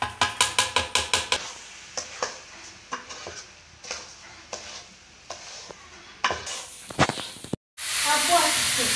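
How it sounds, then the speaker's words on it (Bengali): Rice frying in meat gravy in a pan for biryani, with a run of rapid stirring scrapes and clatters, sporadic clinks, then a loud steady sizzle and hiss at the close. "চাউল দিয়ে দেওয়া হলে এখন চাউলটা সুন্দর করে ভেজে নেবা"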